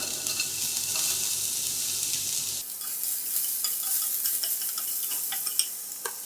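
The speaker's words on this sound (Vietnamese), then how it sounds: "Bây giờ thì mình sẽ đi xào cà rốt và ớt chuông." Carrots and bell peppers stir-fry in oil with garlic and shallots in a pan, a steady close sizzle with scraping stirring, the hiss easing midway while light clinks of a utensil continue.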